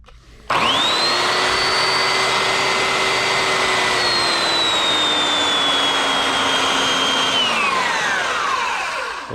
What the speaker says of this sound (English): It's a model 352VS variable speed 3x21 belt sander, made in the USA, Porter Cable.